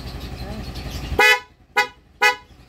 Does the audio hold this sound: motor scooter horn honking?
yes